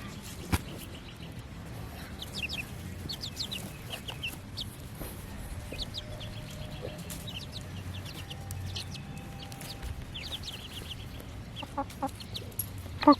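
Tiny chicks peep in short high chirps outdoors, scattered and fairly faint against a quiet background, with soft clucking from nearby fowl.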